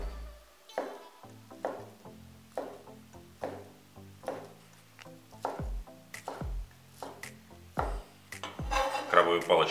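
Knife cutting king crab sticks at a slight angle on a board, a steady series of about a dozen crisp chops, close and fairly loud, with a busier clatter of kitchen handling near the end.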